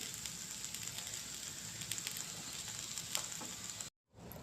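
Bitter gourd curry frying in a pan gives a steady, close sizzle with faint crackles and a few light stirring taps, then cuts off abruptly near the end before the sound returns briefly.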